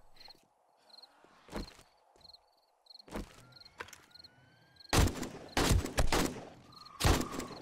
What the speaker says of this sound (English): oh shit, the bomber boss is shooting at us